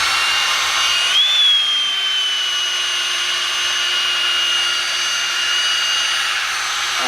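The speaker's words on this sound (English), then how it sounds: "I'll reverse the drill so that it turns the other way to try to get the most life out of the drill brush" A drill spinning a drill brush on low speed in reverse, scrubbing the Denali's aluminum and chrome wheels: a steady, even motor whine with a faint brushing hiss, continuous throughout and with no voices.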